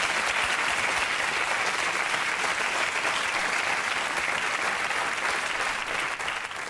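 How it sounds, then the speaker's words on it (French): A television studio audience gives a guest on a French talk show a steady, loud round of applause, dense, continuous clapping that holds throughout with only a slight dip at the end. "On vous applaudit pour votre présence ici"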